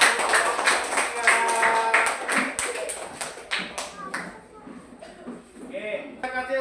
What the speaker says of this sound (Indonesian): Ya, tepuk aplaus.